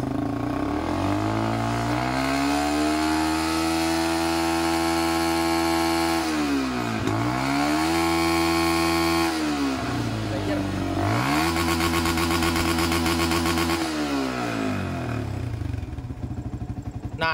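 Yamaha Vixion motorcycle engine held at full throttle, a loud close sustained roar that climbs, dips briefly and climbs again in several revving surges. A voice speaks faintly beneath the engine.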